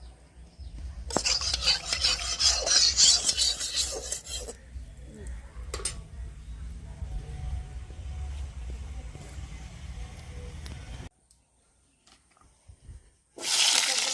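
Malabar spinach stalks fry in oil with a little turmeric while being stirred in a pan: rough scraping and stirring noise that is loud early, then a steadier hiss, a brief near-silence, and a final loud burst.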